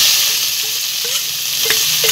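Chopped onion frying in hot oil with bay leaf and cumin, a steady loud sizzle with a few soft stirring scrapes over two seconds, no voices.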